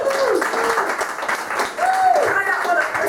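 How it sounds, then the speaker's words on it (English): A comedy-show crowd claps in a loud, continuous round of applause while a voice talks over the top, with a brief dip before the clapping swells again. "Give them all a round of applause."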